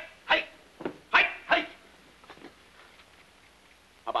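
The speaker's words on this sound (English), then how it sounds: "I don't like the sound of its bark." A dog barks in a short burst of four sharp yelps, then goes quiet, with a couple of softer sounds and another bark starting at the end; close and fairly loud.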